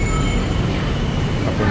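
A train rumbles loudly and steadily at Saladeng Station on Bangkok's elevated rail line, a close, continuous roar of wheels and motors with faint high squeals.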